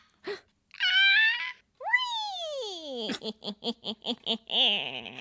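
A woman imitates a cat with voiced meows and wailing yowls, a rising-falling moan followed by a quick series of choppy giggling bursts, close and clear with no other sounds.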